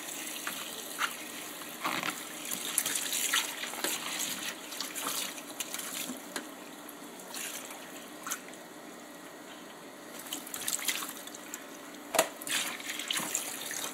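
Cold water runs from a tap into a container in a steady, continuous rush with small splashes and gurgles throughout, close and alone.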